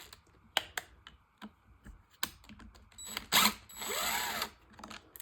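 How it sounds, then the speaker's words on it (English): A small screw is removed from the carburetor of a Stihl FS 90 trimmer, heard close up as scattered clicks and taps followed by a short, buzzing, drill-like whir. No one speaks. "it is one more screw we got to take off here to get it out."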